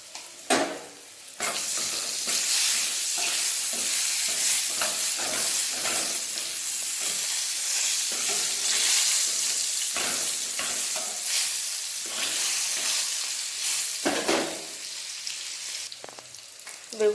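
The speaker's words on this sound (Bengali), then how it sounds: "আলুটা ভাজা হয়ে গেছে হালকা এরপর এর সাথে বেগুনটাও দিয়ে দেবেন" Potatoes fry in hot oil with turmeric and salt, giving a loud, continuous sizzle and hiss close at hand, broken by a few stirring scrapes and dips, with no talk.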